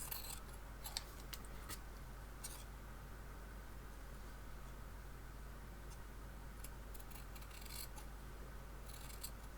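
Scissors snip through a piece of fabric backed with iron-on interfacing, a few faint, crisp cuts near the beginning and end over a quiet room hiss.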